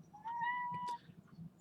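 A pet hobby cat gives a single drawn-out meow up close, a clear rising-then-level cry lasting under a second, followed by quieter room noise.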